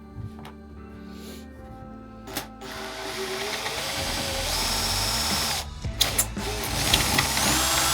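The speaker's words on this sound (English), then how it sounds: "Use a Forstner bit to drill the router bit hole and metal drill bits for the mounting holes." Power drill boring holes in wood with a Forstner bit, a whirring motor drone that strengthens and roughens as the bit bites into the workpiece, with brief clicks and bumps in between.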